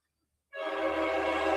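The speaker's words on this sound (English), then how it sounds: "Can you hear those trucks? Yeah. Yeah. There must be some kids outside honking." Truck horn honking outside, a sudden loud sustained blare that starts after a moment of silence and holds steady, with no voices over it.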